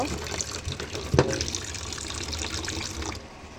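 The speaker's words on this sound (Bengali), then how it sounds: "এদিকে আমি শুটকিটা ধুয়ে ভালো করে পরিষ্কার করে নিয়েছি" Chepa shutki, dried fish, being washed in water, with a steady running, splashing wash and one sharper splash or knock partway through before the flow cuts off near the end.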